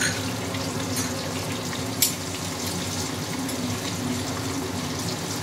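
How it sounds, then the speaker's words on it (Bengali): Nigella seeds (kalo jeere) tempering in the hot oil left in the pan, giving a steady, close sizzle with one sharp pop partway through; no one speaks. "এই তেলের মধ্যেই আমি এবার এই যে কালো জিরে ফোড়ন দিয়ে দিচ্ছি"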